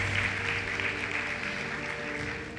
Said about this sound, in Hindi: बजा सकते हो तालियां, सच्चाई है बहुत बड़ी।